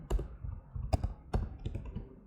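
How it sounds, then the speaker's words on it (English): Computer keyboard keys pressed for a shortcut in Photoshop: a few sharp, close clicks spaced unevenly over about two seconds, with no talking. "You press Control T or Command T on the keyboard."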